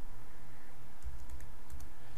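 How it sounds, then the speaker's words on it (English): Keys clatter on a computer keyboard in a quick burst of clicks starting partway through, close and clear over a low steady room hum, with no talking. "And I'll start typing."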